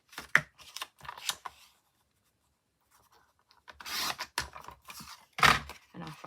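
Scissors snip paper for a small handmade stamped booklet, several short close cuts in two clusters separated by a quiet pause.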